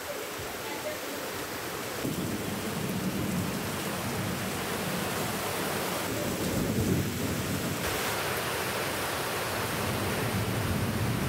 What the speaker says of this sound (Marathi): राज्यभरात पाऊस झालेला आहे